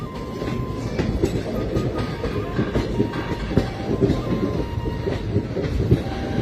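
A train rolls steadily along the rail line to Agartala in northeastern India, with continuous close rumble, rhythmic wheel clatter and occasional faint squeals throughout.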